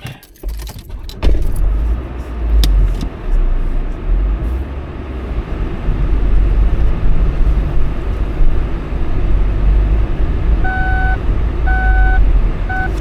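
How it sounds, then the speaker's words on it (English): Car engine idling and rumbling as the vehicle reverses and turns around on a rural road, low steady motor noise after a few jangling clicks, with a repeating reversing beep near the end. "I think I just have to turn the car again."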